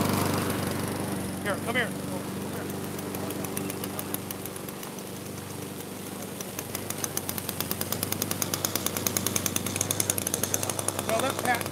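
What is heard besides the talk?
weed whacker (string trimmer) running outdoors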